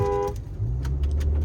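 A Land Rover Discovery Sport and an Audi Q3 Quattro launch side by side in a drag race. A brief tonal note comes first, then a close, low engine rumble swells and holds.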